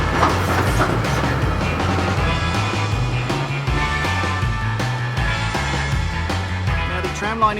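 Melbourne tram on the number 75 line, the world's longest, rumbles steadily along the tracks with rhythmic clicking of wheels over rail joints, heard from on board at a constant, fairly loud level.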